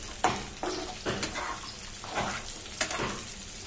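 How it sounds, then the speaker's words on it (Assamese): Peas hiss and sizzle in a frying pan as they are stirred, with several scraping strokes at a gentle, uneven rhythm, close but fairly quiet. "ইয়াত দিছোঁ দুটামান মটৰ দি গোটেইখিনি আকৌ অলপ লৰাই দিলোঁ"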